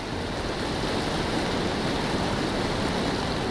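Heavy jeep swept away by a fast surge of floodwater, with broad continuous rushing roar, loud and steady throughout, no voices.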